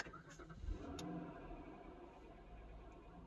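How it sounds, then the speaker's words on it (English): A car engine cranks and catches, then settles into a low, quiet idle rumble that runs steadily to the end, heard faintly from inside the vehicle. "now what we're going to do is just start the engine."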